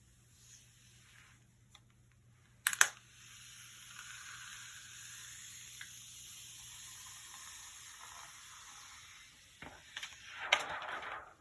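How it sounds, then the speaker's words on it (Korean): Peeling protective film off an XP-PEN Artist Pro 16 pen display tablet: a steady, soft hissing rustle runs for several seconds, bracketed by a few sharp crinkly peeling snaps near the start and end, close up with no talking. "본체부터 살펴보기 전에 보호 필름부터 떼어줄게요"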